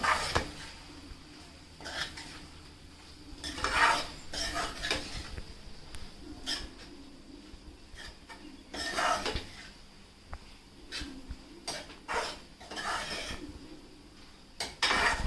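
A spatula scrapes and clatters against a pan as something is stirred and fried, giving irregular metallic clinks and knocks over a soft background with no talking.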